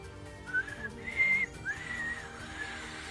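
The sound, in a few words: whistled imitation of the mockingjay call from the Hunger Games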